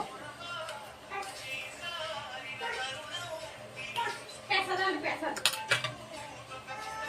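Spoon scraping and clinking against a metal pot while spice powder is stirred into a dish, irregular metallic clinks growing louder toward the end, with a voice talking underneath.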